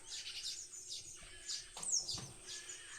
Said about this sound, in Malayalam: അതിനകത്ത് കിളിയുണ്ട് കേട്ടോ.